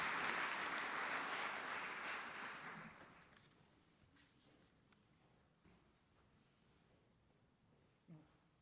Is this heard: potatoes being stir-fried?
no